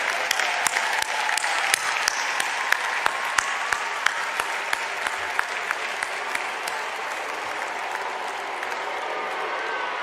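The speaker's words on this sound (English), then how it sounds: "Please join me in a round of applause for these dedicated Carolina" A large commencement crowd at UNC Chapel Hill applauds university staff in a long, even wash of clapping with sharp individual claps near the front, with no speech.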